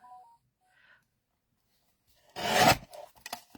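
A red rubber stamp being trimmed, heard as a brief loud rasping cut of about half a second followed by a few softer scraping rubs, after near silence with faint tones.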